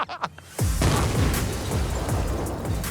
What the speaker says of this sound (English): Our first full-scale experiment was a perfect match for the movie explosion.